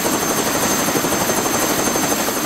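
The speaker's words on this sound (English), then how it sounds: "He just bumped the helicopter down into the snow to keep it nice and stable." A helicopter sits on a snowy mountain top with its engine and rotors running, a loud, continuous close-up whine and rapid rotor chop filling the air without pause.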